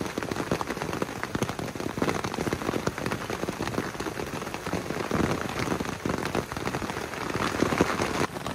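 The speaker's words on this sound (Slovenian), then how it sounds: "pa sam poslušte te prečudovite zvoke dežja" Steady rain pattering on a surface during a stormy night, a dense continuous hiss of drops with scattered louder taps, close and even throughout with no voices.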